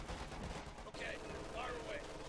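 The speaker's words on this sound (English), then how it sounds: "Nice MG suppressing the infantry." An MG42 machine gun fires in a Company of Heroes 2 battle, with faint distant bursts and battlefield rumble mixed under game sound effects, quiet and somewhat muffled.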